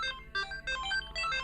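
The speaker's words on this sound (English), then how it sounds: "So when I play my ringtone," A bright, chiptune-style phone ringtone plays alone, looping short bursts of square-wave beeps with brief gaps between phrases.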